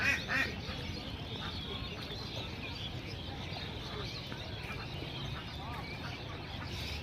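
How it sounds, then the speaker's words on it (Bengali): Domestic village ducks on a river quacking in short bursts, fairly faint against a wide outdoor ambience, with a louder cluster of quacks at the start. "দেখতে পাচ্ছেন নদীতে হাঁস সাঁতার কাটছে, গ্রাম্য হাঁস।"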